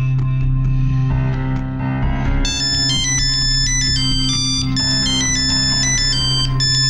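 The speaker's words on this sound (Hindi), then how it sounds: "भाई तू फोन उठा और हाँ आराम से बात करियो" A mobile phone ringtone plays loudly and continuously, a bright repeating electronic melody with a droning low layer beneath it, and no one speaks over it.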